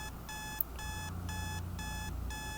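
An alarm clock beeps in rapid repeating bursts separated by short gaps, steady and fairly loud over a faint background hum.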